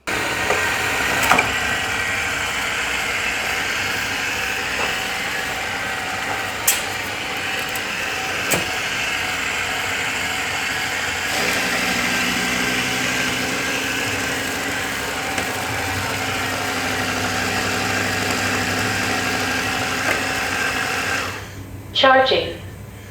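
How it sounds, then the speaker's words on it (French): The MONSGA MR7 Pro robot vacuum, a self-emptying robotic mop and vacuum, hums steadily as it drives back to its station, then its sound shifts into a short burst of clatter at the end. "une fois son travail terminé, le robot retourne automatiquement sur sa station"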